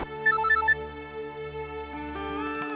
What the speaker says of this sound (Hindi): रणवीर का फोन है।